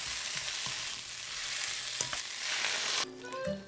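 Chopped green onion and button mushrooms stir-fry in a pan over slightly reduced high heat, a steady close sizzle with occasional scrapes and taps of a utensil, ending with a softer sizzle.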